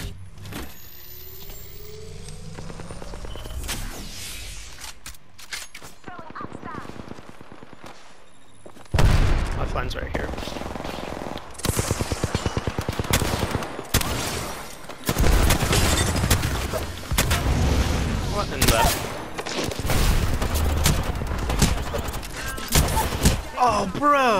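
Gunfire in the video game Apex Legends, bursts of rapid shots and loud impacts that start after a quieter stretch and then come in dense clusters, with players talking over the action.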